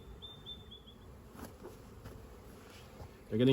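Honey bees buzz around an open nucleus hive in a beeyard, a steady, fairly quiet swarm hum running throughout with a brief higher whine early and a louder close rustle at the end.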